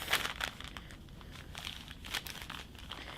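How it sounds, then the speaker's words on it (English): Brown paper bag folded in half and creased for a handmade journal, a close run of dry crinkling and crackling paper with a few sharper crunches, alone and steady throughout. "Another thing that's nice to do is to take it and fold it in half like a little mouth"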